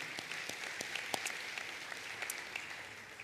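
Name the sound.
applause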